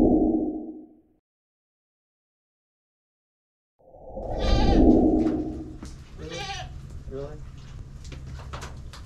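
Goats on a homestead with a solar-charged electric fence bleat several times, loud and close, after a brief pause, with rustling and shuffling around them.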